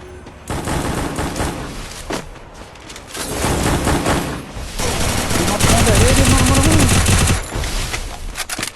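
Rapid automatic gunfire bursts from the Free Fire battle game, loud and dense with sharp shots, booms and intermittent voices under the shooting, intensifying in the middle before easing.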